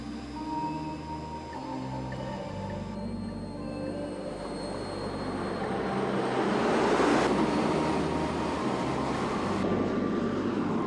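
Aircraft engines running after startup as the planes taxi out before takeoff at an air show, a steady broad rumble and whine that swells louder midway, with no talk.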